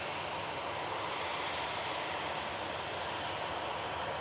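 A jet airliner's engines roar steadily at Manchester Airport, a broad continuous rumble and hiss that holds at even loudness throughout with no voices.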